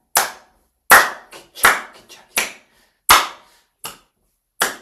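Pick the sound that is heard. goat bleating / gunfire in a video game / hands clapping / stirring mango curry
hands clapping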